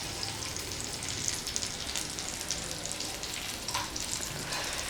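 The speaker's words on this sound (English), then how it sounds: "We'll fry it till it becomes nice and golden brown." Chicken fingers frying in hot oil give a steady close sizzle with dense crackling and popping throughout, and no voices.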